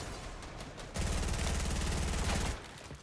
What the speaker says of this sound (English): I can shoot this guy right in the mouth right now